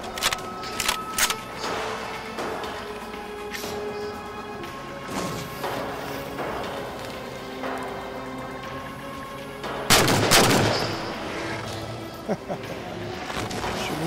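Rapid gunfire and heavy impacts from the video game Halo 4, including DMR rifle shots, with loud bursts near the start and a big crash around the middle over a constant battle din.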